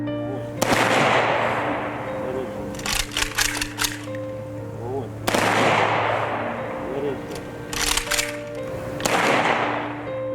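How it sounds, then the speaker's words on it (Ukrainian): An honor guard fires automatic rifle salute volleys into the winter sky at a soldier's funeral in Kryvyi Rih: two loud, sharp bursts about four and a half seconds apart, each trailing off into echo and scattered clicks. "в зимове небо пролунали автоматні постріли почесного караулу"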